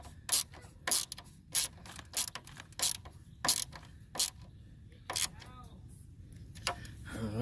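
A ratcheting screwdriver or wrench drives a headlight screw into a 1994 Ford Escort, giving a series of sharp, close clicks in an uneven rhythm, with a voice speaking at times.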